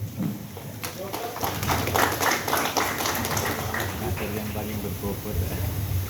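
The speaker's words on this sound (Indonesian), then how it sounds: "Tepuk tangan buat beliau." Applause from an audience at a regional government gathering in Kebumen, a dense steady clatter of clapping lasting several seconds, fairly close and mixed with crowd murmur.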